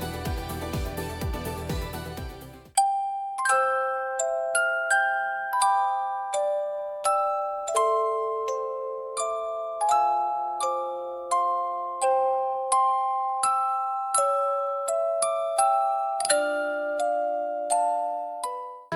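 Suno AI v5 generated music: slow, chiming bell-like tones ring out one after another in a calm, spacious melody, each note decaying softly, following a brief dense musical intro.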